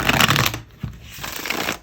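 A vintage deck of playing cards is riffle shuffled up close, giving a dense flutter of rapid card slaps followed by a brief pause and a softer second riffle and bridge, with no talking.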